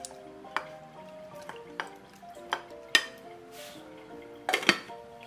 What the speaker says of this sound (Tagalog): Lagyan ko ng tubig yung ating kaldero